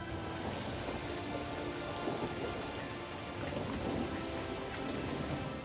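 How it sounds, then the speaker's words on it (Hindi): Heavy torrential rain during a storm in Uttar Pradesh, a dense, steady roar of downpour with no pauses, heard at a low, distant level. "मूसलाधार बारिश भी होने लगती है"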